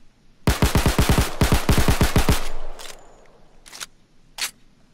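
An FN Five-seveN pistol in Payday 2 fires a fast string of about fifteen sharp, loud shots in two quick bursts, followed by a few scattered clicks and clacks.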